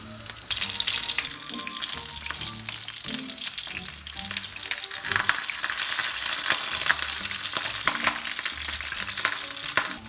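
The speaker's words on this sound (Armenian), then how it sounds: "իսկ այս մեկի մեջ առաջնահերթ կտապակենք սոխը" Onion sizzles and fries in a pan in a home kitchen, a continuous bright crackle with occasional stirring scrapes, close and steady with no talking.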